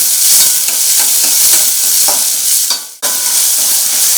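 Small onions fry and are stirred in a pan, a loud, close sizzle with rhythmic scraping strokes, briefly cut off for a moment before the frying resumes.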